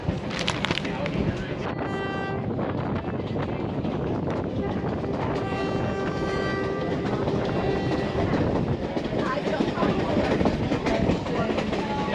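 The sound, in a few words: train moving on rails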